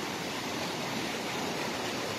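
The Bregalnica river, swollen after heavy rain, rushes in a dense, steady roar of churning water that fills the scene without any break.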